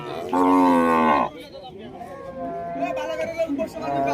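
A cow lets out one loud, drawn-out moo close by at a cattle market in Rajshahi, followed by a person talking over quieter background noise.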